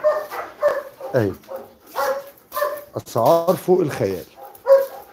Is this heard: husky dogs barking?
yes